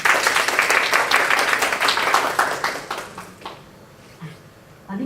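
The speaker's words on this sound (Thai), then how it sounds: "ขอเสียงปรบมือให้กับดรไมลอนเวนหน่อยค่ะ" An audience at a presentation applauds with a burst of clapping that starts strong and then fades over a few seconds, leaving quiet room sound and a hint of voices at the end.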